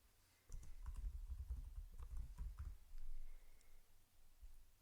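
Light clicking of typing on a computer keyboard at a desk, a quiet run of close key taps in short bursts with a pause, then a few final clicks.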